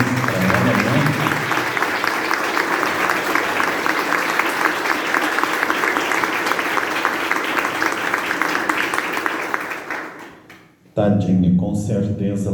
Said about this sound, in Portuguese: Vamos dar uma salva de palmas para ela